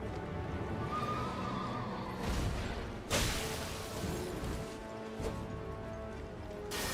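A horse whinnies loudly over steady game noise in Elden Ring, with sharp thuds and hoofbeat-like clatter punctuating the continuous background.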